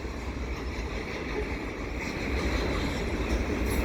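A CP westbound mixed freight train rolls past near the St. John's Blvd overpass, a steady broad rumble and rail noise that holds level and swells slightly toward the end, with no talking.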